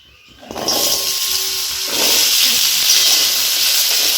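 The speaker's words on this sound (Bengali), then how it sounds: "তেল দিয়ে আলুটা ফ্রাই করে নেব এবার এর মধ্যে দিয়ে দিচ্ছি আলু" Potatoes drop into hot oil in a pan and fry with a loud, close, sustained sizzling hiss that swells once more midway and stays strong.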